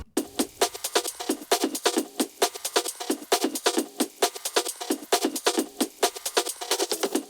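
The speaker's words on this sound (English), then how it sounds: "Then I added this drum loop." A crisp drum loop in Ableton Live 12 plays alone, its hits cut into short, uneven chopped segments with a bright, snappy, slightly irregular rhythm.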